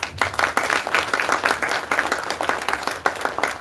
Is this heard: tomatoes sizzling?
no